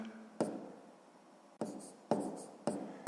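A pen writes numbers for a sixth-grade math problem, several quick scratchy strokes at uneven intervals, close and soft in a quiet room.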